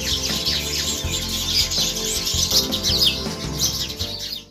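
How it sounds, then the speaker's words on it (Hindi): House sparrows in a home chirp continuously, a busy layered chatter of bright tweets close by, with a low steady murmur underneath. "पूरा घर हर वक्त चिड़ियों की चहचहाहट से गुलजार होता है"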